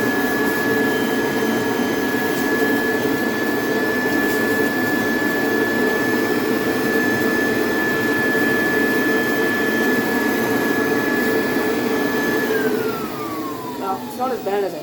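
A Kirby Heritage II vacuum cleaner runs loud and close with a steady motor roar and a high constant whine that drops in pitch near the end as it begins to wind down.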